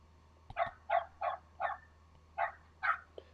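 Dogs bark in six sharp, separate bursts with short gaps between them, moderately loud and a little distant, with no talk over them.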